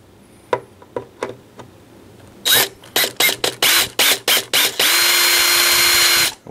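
A power drill drives screws into the speaker of a Fender Acoustosonic 30 amplifier, starting with a few light taps, then a run of short whirring bursts before one longer sustained drive, close and loud.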